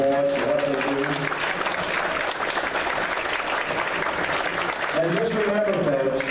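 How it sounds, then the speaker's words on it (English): An audience at a community meeting applauds, a steady wash of clapping from a roomful of people with voices talking over it at the start and again near the end. "give them a big round of applause for what they do"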